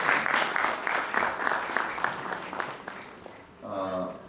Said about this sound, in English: So big clap for him.